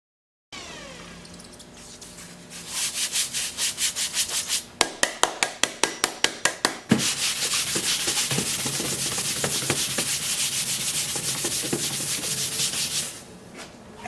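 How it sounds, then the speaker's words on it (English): A 2005 Cadillac STS headlight lens is sanded with 220 grit sandpaper, giving a steady close rubbing rasp, then a run of quick rhythmic strokes, then long continuous scrubbing that stops near the end. "I'm going to hit this with a 220 and then we'll switch back to hand wet sanding"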